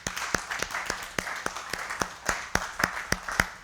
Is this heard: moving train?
no